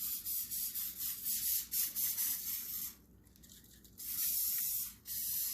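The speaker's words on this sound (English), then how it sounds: "Just give them a good spray of olive oil." Several short bursts of olive oil spray hiss close up onto squash, separated by brief pauses, followed by a longer spray near the end.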